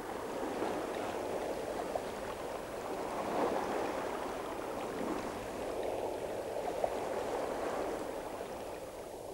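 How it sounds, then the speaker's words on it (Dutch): Sea waves wash back over a tidal shore in a steady, broad rushing surge that swells and eases gently, with a faint continuous hiss and no voices. "En naar boven keren de golven terug."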